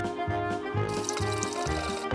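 Water being poured into a pot for a croquembouche sugar syrup, a close, steady liquid splash and trickle with faint pulsing surges that grows brighter partway through, no talking.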